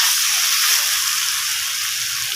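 Vegetables frying with potatoes in hot oil for a potato and soybean curry, a steady close bright sizzle throughout with no talking.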